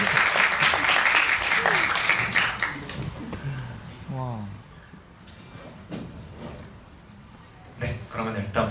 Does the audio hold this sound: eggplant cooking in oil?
no